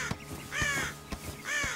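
A cartoon crow caws several times close up, harsh rasping calls in two bursts with quieter scratchy sounds between them.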